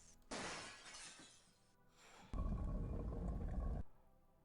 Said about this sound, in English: Gabriel hears the faint sound of breaking glass